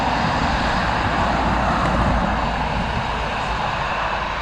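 Aer Lingus airliner departing Dublin Airport for Faro, a loud, steady engine roar filling the whole stretch with broadband rushing noise.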